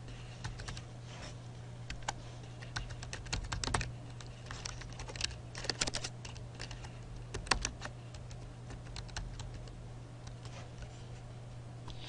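Steady close typing on a computer keyboard as a student passcode is entered, with irregular clusters of key clicks over a low background hum and no speech.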